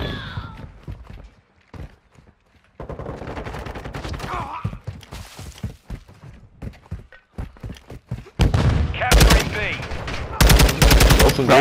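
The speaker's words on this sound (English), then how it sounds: "I'm getting shot by both sides, bro" Gunfire erupts during a Call of Duty multiplayer match: scattered shots and footsteps early on, then loud sustained automatic bursts near the end. Voices talk intermittently between the shots.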